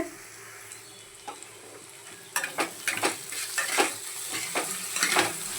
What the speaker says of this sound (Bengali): পেঁয়াজটা ভাজা মতো হয়ে যাচ্ছে